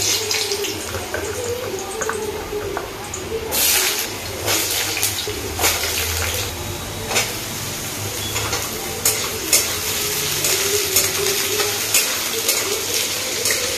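A wok sits on a single stove burner, with cooking and stirring going on in it, a steady hiss carrying intermittent scraping and clinking strokes, close, with no talking.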